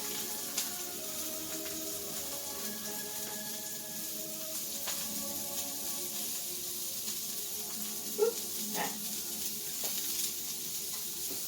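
Potatoes coated with paprika and rosemary sizzle in a hot pan while being stirred, a steady frying hiss with occasional scrapes and clinks, no voices.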